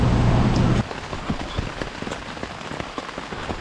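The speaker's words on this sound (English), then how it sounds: "the rain will not quit raining and raining" Steady rain patters on a surface during a motorcycle camping trip in Valdez, Alaska, with a louder rushing burst in the first second before settling into continuous close dripping and pattering.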